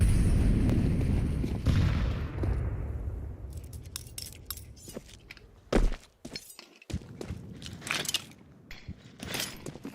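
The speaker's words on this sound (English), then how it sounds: "There goes the nades." Grenades going off in a Counter-Strike 2 esports match, a series of sharp thuds and cracking bursts scattered across the moment, with a dense rumble of game noise early on and scattered impacts and clicks later.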